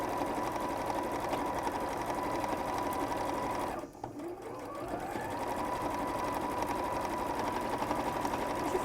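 A sewing machine runs a straight stitch with a steady, fast mechanical whir, close and continuous, pausing briefly about midway before speeding back up to a constant hum.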